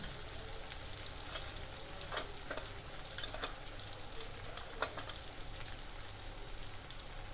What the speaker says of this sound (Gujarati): તો હવે એને થોડું સાંતરીએ.